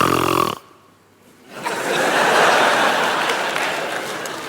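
Loud snoring, a rasping snore cut off by a short pause, then a long, noisy rasping breath that swells and continues to the end.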